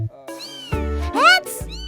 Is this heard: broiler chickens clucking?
no